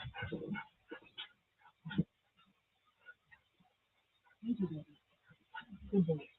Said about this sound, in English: I have to tie up my dog. He just got up here.